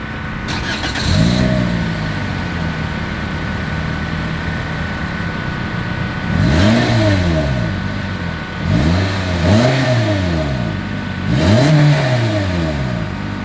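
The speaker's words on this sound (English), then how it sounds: "As always, here is that exhaust clip." A 2022 Toyota Corolla idles and then revs up several times, each rev rising and falling sharply from the exhaust, close and loud with no talking.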